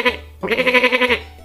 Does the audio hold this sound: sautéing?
no